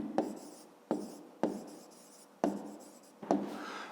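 A pen or pencil writes on paper in short separate strokes, five scratchy bursts each starting with a sharp tap and fading, close and fairly quiet with no talk.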